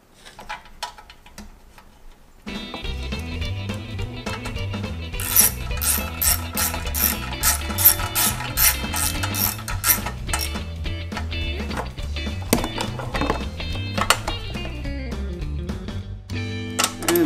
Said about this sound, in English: let me get our 8mm bolts in